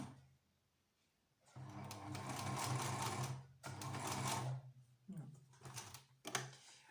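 Sewing machine stitching a fabric face mask in quick mechanical bursts of rapid stitching separated by short pauses, close and fairly quiet.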